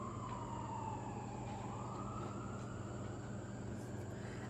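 Emergency vehicle sirens wail outside, a sweeping tone that slides down and back up over a constant rumble of traffic, heard faint and muffled from indoors with no voices.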